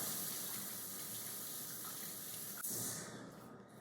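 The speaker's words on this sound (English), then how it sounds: "flip the sink on, stick them under there" A kitchen sink tap runs water over hands being washed, giving a steady close hiss and gush that splashes sharply near the end before fading slightly.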